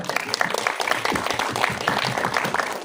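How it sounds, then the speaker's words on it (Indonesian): An audience applauds an Indonesian film director at a film promotion event, a dense, steady wash of many hands clapping with some voices mixed in underneath. "Boleh tepuk tangan semuanya."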